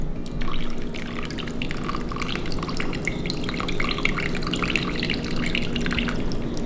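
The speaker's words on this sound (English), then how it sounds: "Let that drain back into the rabbit meat." Rabbit broth, with a little vegetable broth mixed in, dripping and trickling from strained rabbit meat back into the pot, a steady close wet patter that continues without pause and with no talk.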